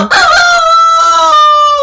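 A sick rooster crows once, close and loud, a drawn-out strained call that wavers and holds for nearly two seconds.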